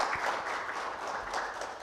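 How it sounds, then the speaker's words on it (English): Brief, faint applause from a town hall audience at an ABRAO Group gathering in Bangalore for the leadership team, a soft continuous patter of clapping heard from a distance. "So I would like to give a big round of applause to all of you guys."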